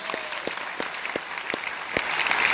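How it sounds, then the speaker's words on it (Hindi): An audience at a student motivation session in Kota claps loudly and steadily for about two and a half seconds. A few sharper individual claps stand out at first, and the applause swells toward the end. "एक बार खुद के लिए और हमारे लिए जोरदार तालियां बजा दो।"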